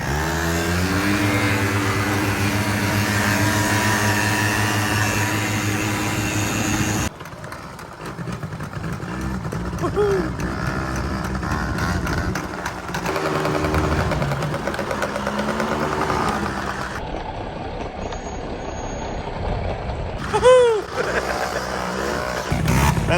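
90cc ATV quad bikes, a Honda TRX90, Polaris Scrambler 90X and Kymco 90, race off a start line outdoors, their small engines droning and revving steadily, loud and close with a few faint voices in between.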